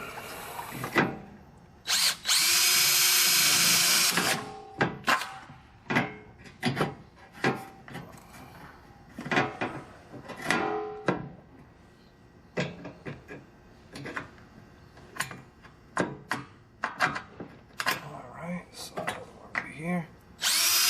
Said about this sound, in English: I'm using this DeWalt wireless, so it's not very difficult.